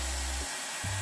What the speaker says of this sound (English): I'm gonna need a hairdryer.